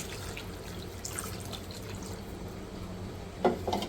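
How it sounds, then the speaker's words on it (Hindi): Water is poured into a pressure cooker holding beef pieces: a soft, continuous running flow, then a brief louder splash near the end, with no talking. "बस इसके अंदर अब मैं डाल दूँगी पानी"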